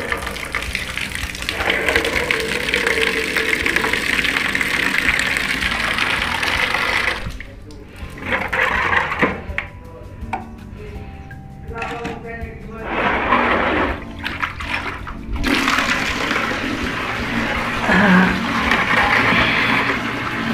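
Water is poured into a container that will hold a betta fish with dropsy. A steady, loud gush runs for most of the time and breaks off for a few seconds partway through, and a voice speaks during that pause.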